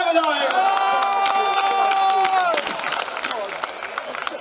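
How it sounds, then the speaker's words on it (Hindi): Audience at a poetry recital at the Meerut festival claps and cheers loudly, a dense crowd roar with shouts and tonal whoops through the first half, then thinning into scattered clapping and voices. "तालियां बजाओ।"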